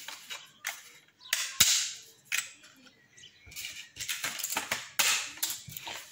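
Dry lasagna sheets snapped by hand while making lasagna give sharp, dry cracks in uneven bursts, some single and some in quick clusters, fairly quiet and close with no talking.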